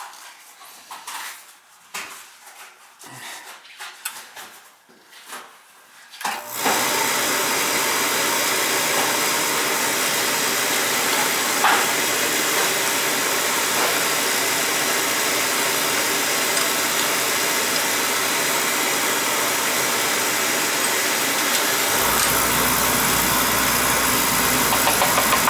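An oil-fired boiler burner lights after a few seconds of faint clicks and small sounds, then settles into a steady, loud, broadband roar that holds for the rest of the stretch, with a slight shift in tone near the end.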